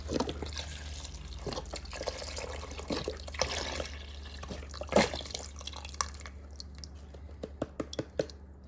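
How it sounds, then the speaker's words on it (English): Chicken broth poured into an Instant Pot with Great Northern beans, smoked sausage and ham hocks, a quiet, close gurgling and splashing of liquid with scattered drips, faint and uneven, without speech. "And then all we need to add is our chicken broth."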